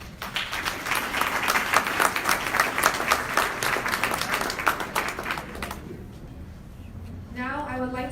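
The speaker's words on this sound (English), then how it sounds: "please signal your approval of tonight's agenda with applause" Audience at a mayoral candidates forum in Riverside, California claps steadily for several seconds as a sign of approval, dense and fairly close, then the applause thins and fades into room noise with a brief voice near the end.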